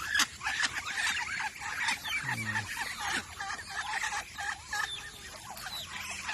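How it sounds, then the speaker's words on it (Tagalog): Native Visayan chickens cluck and chatter nearby in an irregular stream of short calls, several birds overlapping in a farmyard. "So may manok tayong ano, native. Oh, yung mga Bisayang manok."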